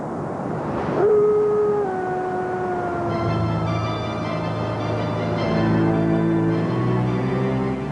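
Wolves in the Siberian wilderness howl in long, sliding, drawn-out tones, one voice rising sharply then falling, with other howls layering in and overlapping in the distance.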